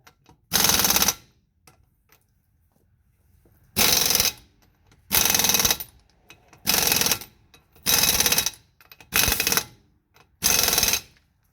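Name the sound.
worn impact gun cranking tie-rod on Chevy Express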